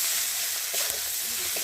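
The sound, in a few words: green chillies frying with salt in pan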